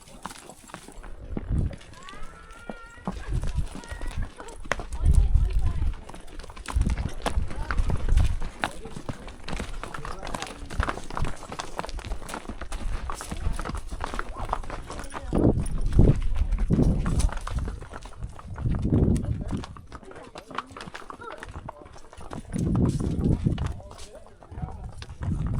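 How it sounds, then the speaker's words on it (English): Mules walk across slickrock in rugged canyon country with riders aboard, their hooves clip-clopping in uneven, irregular steps close by, with creaks and rustles between them and a voice talking at times. "I think you'll enjoy just riding along and seeing what these mules can do in this Slickrock country"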